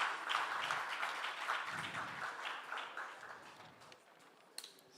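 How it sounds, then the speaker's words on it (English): Faint, steady applause from a crowd goes on for a few seconds, then tapers off. "Let's clap for UG."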